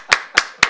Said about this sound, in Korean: 저희가 박수 한번 쳐볼까요?